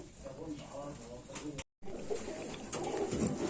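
Fancy pigeons coo softly in a bird sale, their low murmuring calls running under someone talking, with a brief dropout midway.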